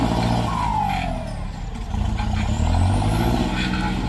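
A farm tractor drives along, its engine a loud, close, continuous rumble that dips briefly and then rises again, with no talk.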